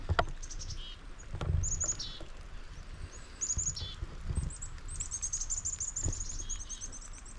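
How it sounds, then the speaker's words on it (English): Black-capped chickadees and common redpolls call from the trees along an Alaskan trail, a series of thin high chirps and twittering notes scattered through the clip over a low outdoor rumble. "I listen to all this black hat chickadees and common red poles that I see flying around"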